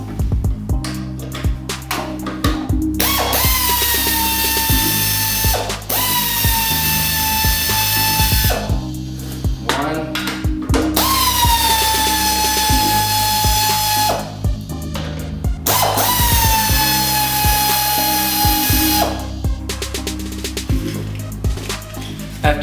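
A power tool whirs in repeated bursts while backing out bolts on the speedometer of a 2012 Harley-Davidson Dyna Street Bob FXDB, each run spinning up with a rising whine and then stopping, with brief pauses between runs, close and fairly loud.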